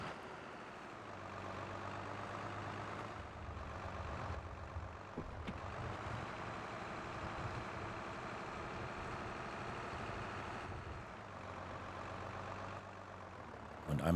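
Tractor engine in Farming Simulator 22 droning steadily as the farm vehicle drives across a ploughed field, a continuous low rumble with slight shifts in load and no talk.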